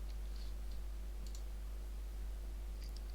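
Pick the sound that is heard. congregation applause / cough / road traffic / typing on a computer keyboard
typing on a computer keyboard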